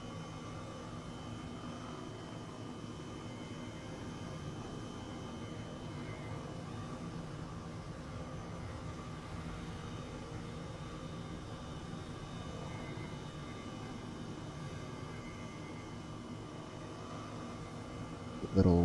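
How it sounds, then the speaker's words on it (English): Aircraft taxiing toward the runway in a flight simulator game, a steady engine drone and broadband rumble continuing throughout at moderate level, with no talk. "Go ahead and taxi over to the runway."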